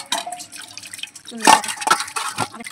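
A conch shell gets rinsed under running water, with short splashes and drips that swell into a louder gush midway, close up, mixed with faint handling of the shell.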